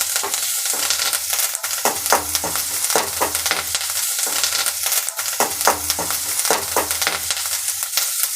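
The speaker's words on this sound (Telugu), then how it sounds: "వేసుకొని బాగా ఫ్రై చేసుకోవాలి." Bottle gourd pieces and curry leaves frying in a pan with hot oil, a steady sizzle broken by repeated scraping stirs of a spoon against the pan, close and continuous.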